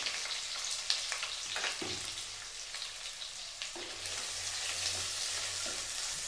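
Chopped onion and chilli frying together in a pan for a chicken curry: a constant crackling sizzle like light rain, with a couple of brief stirring scrapes, close and moderately quiet, no one talking.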